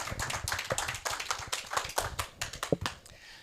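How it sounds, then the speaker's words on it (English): A small meeting audience claps for a volunteer being honored, a moderate round of individual hand claps with irregular, overlapping rhythm, fairly close and fading out after a few seconds. "Big round of applause for Kenneth, yes."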